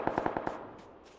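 Rapid burst of five gunshots in PUBG Lite on the Miramar map, sharp and fairly close, fired in quick succession then fading into a short echoing tail.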